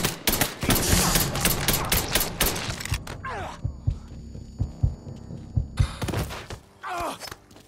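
Rapid gunshots in Mafia III, a dense burst of loud close shots in the first few seconds, then scattered heavier thuds over a low hum, with a final short burst near the end.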